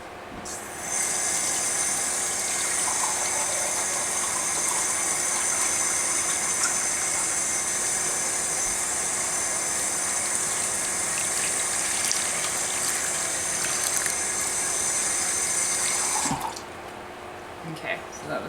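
Warm water runs in a steady gush from a tap into a measuring cup for a bread yeast starter, close and continuous for about sixteen seconds before cutting off abruptly.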